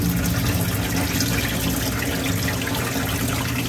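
Water rushing out of a clogged condensate trap pulled from a Weil McLain Ultra 3 boiler: a steady, close splashing gush that pours continuously without a break.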